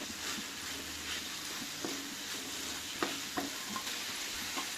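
Ridge gourd curry with turmeric is stirred in a pan, a gentle sizzle under light scraping strokes and a few spoon taps against the metal; quiet and close, with no talking.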